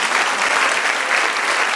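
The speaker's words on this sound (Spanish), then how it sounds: "Denle otro aplauso al Señor." Church congregation clapping during a service, a loud, dense and continuous burst of applause filling the brief moment.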